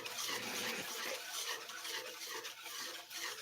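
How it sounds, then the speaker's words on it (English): A spoon stirs cocoa broth in a pot, scraping and swishing steadily and close up for a few seconds, with no voices. "while I'm stirring this"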